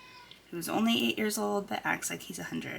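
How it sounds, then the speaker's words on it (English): An eight-year-old house cat meows repeatedly in the background, its drawn-out cries partly masked by a person talking over them. "if you hear the sound of a cat in the background"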